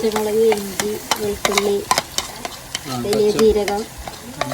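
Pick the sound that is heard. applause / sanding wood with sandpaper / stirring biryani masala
stirring biryani masala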